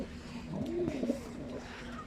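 A racing pigeon coos once, a rolling low call close by in the loft, with quiet background around it.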